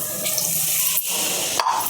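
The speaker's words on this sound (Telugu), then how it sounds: "మనం కుక్కర్లో వేసుకున్న వాటర్ పోసేసుకుందాం" Water from a glass is poured into a pressure cooker pot of goat trotter curry, a steady close splashing stream that runs nearly two seconds without pause.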